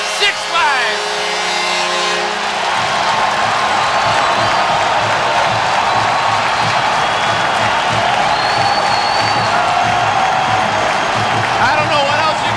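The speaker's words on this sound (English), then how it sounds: "Listen to this crowd." A large college hockey arena crowd roars and cheers continuously after a 6-5 win, loud and sustained, with an announcer's voice talking over the noise.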